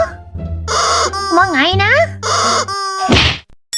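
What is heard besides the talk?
chicken clucking and being hit in Minecraft video game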